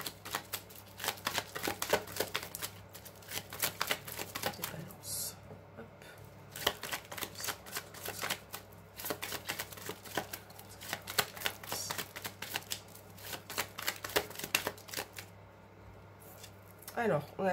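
Tarot cards are gathered and shuffled close by in a run of soft, crisp riffles and slaps over a faint steady hum, with no talk.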